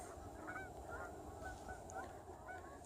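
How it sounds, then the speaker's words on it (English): A large flock of geese honks in cold night air, the calls faint and distant, overlapping in a steady scattered chorus with no talking. "That's a lot of geese."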